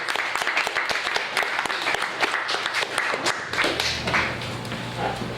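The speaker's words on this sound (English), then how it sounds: "Another round of applause" An audience claps after a talk on the history of food and drink in Victoria, a dense burst of many hands that is loud at first, then thins and softens toward the end, leaving a low hum.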